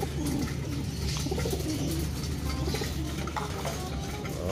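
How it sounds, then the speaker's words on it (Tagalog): Pigeons eat flyer mix feed in a loft, with soft cooing and bird calls over a dense, continuous pecking and rattling of grain at close range. "Ayan, balik sigla yung mga ibon natin."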